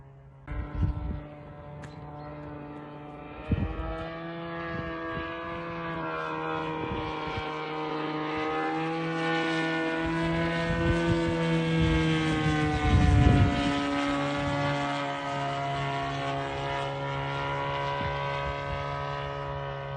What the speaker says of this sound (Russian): У нас на винограднике в Камском устье, похоже, дрон летит.